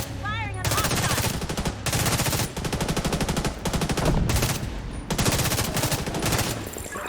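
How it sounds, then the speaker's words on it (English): Bursts of automatic gunfire from The Division 2 video game rattle in rapid, loud volleys separated by short pauses, with a brief electronic chirp at the start and game sounds between bursts. "Firing on hostile!"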